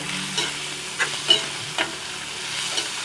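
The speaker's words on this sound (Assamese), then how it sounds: "এইখিনি এতিয়া আমি ভালদৰে ভাজিব লাগিব" Boiled meat with turmeric fries in a pan for a jackfruit curry, a loud, close steady sizzle broken by several scraping strokes of a spoon stirring the pieces.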